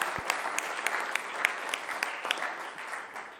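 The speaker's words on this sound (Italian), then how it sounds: "Un applauso." Studio applause on an Italian sports broadcast, a steady wash of clapping with sharper individual claps popping out, moderately loud and unaccompanied by talk.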